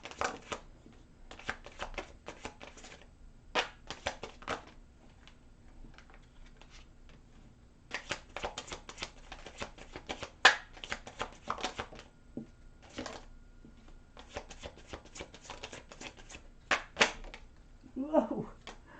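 Tarot cards shuffled in bursts of crisp riffling and flicking, stopping and starting over about nineteen seconds, close and moderately loud, with quieter pauses between runs and a brief voice near the end.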